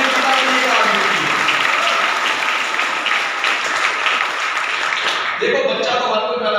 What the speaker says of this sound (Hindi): एक बार जोरदार तालियां मिस्टर सुरेंद्र सिंह ठाकुर के लिए